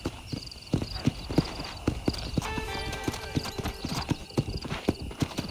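A horse in the Red Dead Redemption video game gallops with steady, rhythmic hoofbeats, a brief whinny and a faint musical tone underneath, with no talking.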